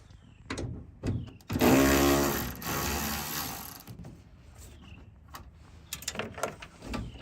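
Loose ratcheting and metallic mechanical clicks while 8 mm bolts are backed out of a 2009–2014 Ford F150 taillight, with a longer buzzy ratchet run in the middle and scattered sharp taps near the end, close and alone.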